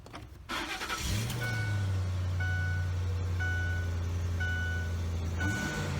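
A 2006 Ford F150 pickup with a 5.4L V8 and a K&N cold air intake cranks and fires up, settling into a steady, close idle while a repeating chime beeps over it.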